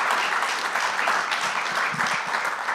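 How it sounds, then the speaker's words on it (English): An audience at a municipal leaders' forum on data centers gives the speakers a sustained round of applause, a loud, dense, even wash of clapping that continues throughout without any spoken voices. "Can we give them another round of applause?"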